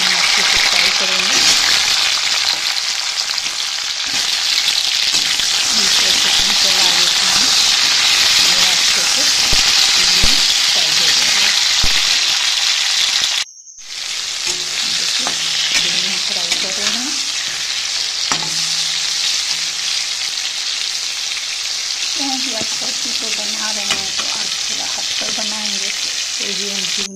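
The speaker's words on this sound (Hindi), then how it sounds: "अब इसमें हम कटी हुई झिंगुनी को डालकर इसको अच्छे से फ्राई करेंगे।" Chopped ridge gourd (jhinguni) frying in hot oil, a loud, continuous close sizzle with a brief cutoff midway, then the hiss returning with scraping stirs and faint talk underneath.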